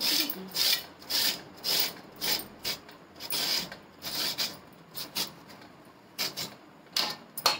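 Potato is grated into long, thin shreds by hand, giving repeated rasping strokes in an uneven rhythm, close and moderately loud, with short pauses between runs.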